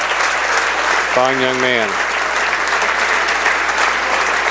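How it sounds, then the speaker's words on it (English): A Greenville and Sidney high school basketball crowd gives a standing ovation in a gym, steady sustained clapping and cheering throughout, with a man's brief spoken remark over it. "a standing ovation by a Greenville hometown crowd and the Sidney crowd"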